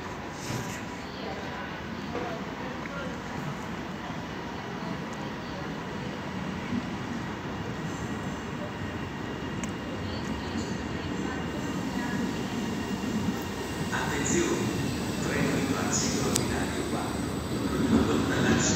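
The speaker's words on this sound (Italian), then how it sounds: "là vediamo il Caravaggio, l'ETR, nuovo, di zecca" A new Caravaggio ETR train passes through Milano Certosa station in the evening, a long rolling rumble with rail clatter and faint wheel squeal growing louder toward the end, while people talk over it.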